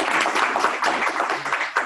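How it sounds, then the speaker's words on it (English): Audience applause at a meeting on a state allocation model, welcoming a guest speaker: a dense, steady wash of many hands clapping for about two seconds, fairly close, with no talk over it. "let's give Cherie Berthon a round of applause for coming"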